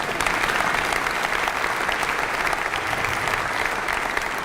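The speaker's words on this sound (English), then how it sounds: "You can clap right there." A crowd at a Macon-Bibb State of the Community address breaks into sustained, dense applause, loud and even throughout with no break.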